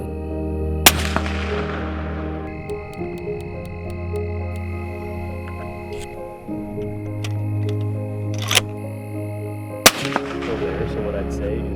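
A rifle fires while its thermal scope is sighted in at night during a hog hunt, one sharp, loud crack near the start and another close to the end, with a steady engine-like hum running underneath throughout.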